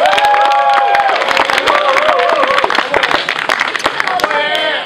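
Audience at the Letavy 2024 festival clapping and cheering to vote, a dense burst of applause with shouts and voices throughout, loud and close.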